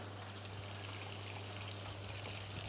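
An IFB washing machine drawing water through its inlet from an open tap, a steady close rushing pour with a low hum underneath, continuous throughout and no one speaking.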